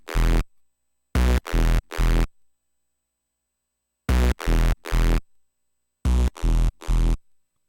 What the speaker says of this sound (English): This sound is completely overprocessed.